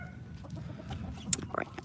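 Farm chickens cluck softly and intermittently nearby, short low murmurs with a brief sharper peep near the end, fairly faint and alone.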